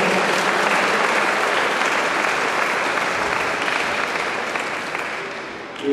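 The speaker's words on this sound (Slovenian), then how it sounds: "En aplavz za njega." Audience at an international boxing cup event in Slovenske Konjice applauding, a thick continuous clapping that holds steady and eases slightly toward the end.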